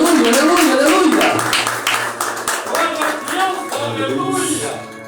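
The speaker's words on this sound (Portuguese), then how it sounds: "Receba o diácono com a salva de palmas em nome do Senhor Jesus." A church congregation claps to welcome a deacon. The applause is brief and comes mixed with a preacher's amplified voice speaking Portuguese and a sustained organ tone.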